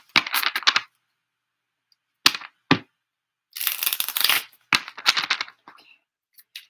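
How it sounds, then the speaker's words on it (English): A deck of tarot cards is shuffled in short bursts of riffling and snapping, several separate clusters spread across the moment, close and fairly crisp, with no talking. "Go ahead and clear the deck, shuffle here."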